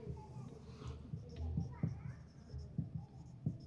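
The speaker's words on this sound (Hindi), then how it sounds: "यहाँ पे लिखती हूँ," Pen or pencil writing on paper during a class 8 maths lesson, soft scratching strokes with a few light taps, faint and close, while a voice speaks quietly over it.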